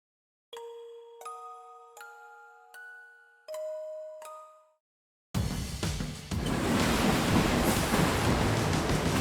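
A six-note chime melody rings out, then a loud, steady rumble of a video-game train running over the sea starts and runs continuously to the end.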